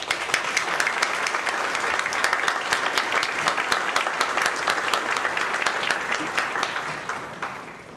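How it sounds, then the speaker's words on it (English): An audience at an honorary Marine ceremony applauds the chorus with steady, dense clapping that fills the room and fades slightly near the end. "a round of applause for the chorus"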